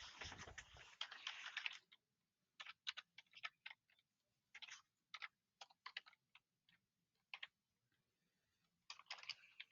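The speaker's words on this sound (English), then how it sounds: "And let's type in that equation." Quick bursts of typing on a computer keyboard while entering an equation into the Desmos graphing calculator, with irregular clusters of light clicks separated by short pauses, close and clear with no talking.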